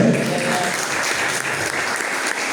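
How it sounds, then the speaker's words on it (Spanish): A church congregation applauds during a Spanish-language sermon, a dense, steady wash of many hands clapping that fills the whole stretch at an even loudness. "¿Cuántos le dan un aplauso al Señor?"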